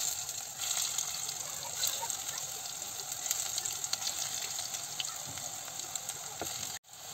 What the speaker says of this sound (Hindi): एक पैन में ऑयल को अच्छे से गरम कर लिया, अब इसमें पतौड़ों को फ्राई कर लेंगे।